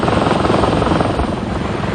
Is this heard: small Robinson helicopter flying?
yes